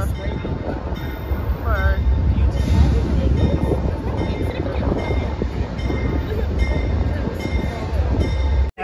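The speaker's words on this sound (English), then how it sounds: "we made it on the train, finally." Steady rumble and rattle of a moving passenger train carriage on a trip from Birmingham to New Orleans fills the space, with a brief squeal of wheels and faint talk in the background.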